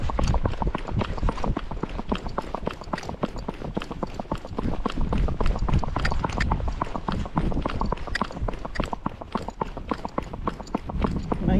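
A Rocky Mountain horse canters, its hoofbeats making a steady, rhythmic clip-clop that carries on close and unbroken for the whole stretch.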